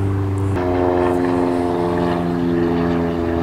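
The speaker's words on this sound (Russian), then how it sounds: "Самолет, ты можешь не лететь сейчас?" A propeller airplane drones steadily overhead, a loud sustained engine hum with strong low harmonic tones that shift slightly partway through and persist throughout, with no talking.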